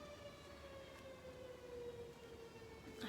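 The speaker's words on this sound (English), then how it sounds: "There's always a siren in my neighborhood." Siren passing through a residential neighborhood, a faint, distant wailing tone holding steady and slowly sliding lower over a few seconds, heard indoors with no one speaking.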